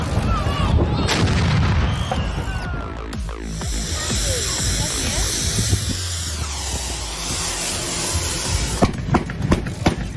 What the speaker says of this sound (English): Thousands of people from across the country gather here to explode carbide using special cannons, putting on a spectacular show.